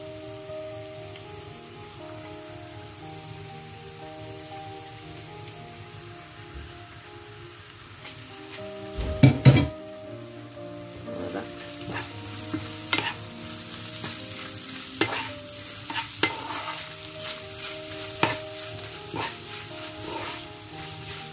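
Minced meat is added to a hot pan, and a sharp burst of sizzling jumps up halfway through over a quieter background hum, followed by sporadic spatula scrapes and crackles.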